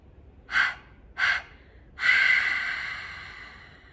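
Two short nasal inhales followed by a longer sustained exhale, part of a guided meditation breathing exercise; close, soft breath sounds with no talking.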